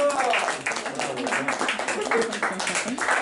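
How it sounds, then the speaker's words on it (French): A studio quiz audience applauds after a contestant receives a burger prize, dense clapping filling the whole stretch while a voice keeps talking over it. "On peut l'applaudir bien fort."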